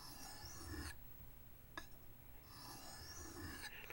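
A knife blade drawn across a sharpening stone in two long, steady rasping strokes with a brief tap between, close and quiet with no talk.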